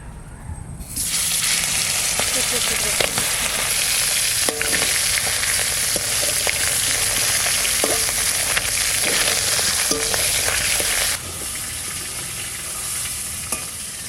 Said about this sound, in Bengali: মাছের মাথাটা আমি কেটে নিছি এবার ভাজা করে নেব